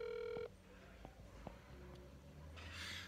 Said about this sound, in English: And it has a ringing, so that means a phone.